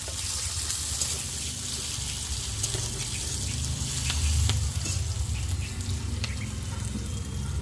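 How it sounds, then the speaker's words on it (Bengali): Onion and green chillies fry in hot tempering oil, a steady close sizzle running through the whole stretch with a brief swell midway, no voices over it. "পেঁয়াজ, দিয়ে কটা কাঁচা লঙ্কা দিয়ে ফোড়নটা ভালো করে ভেজে নেব"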